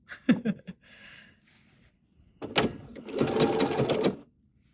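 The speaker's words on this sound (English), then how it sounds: "now we're ready to stitch with the right bobbin this time" A sewing machine stitches an embellished pumpkin wall hanging for a quilting project. A few short clicks and a soft whir come first, then a louder, steady burst of rapid motor-driven stitching close by.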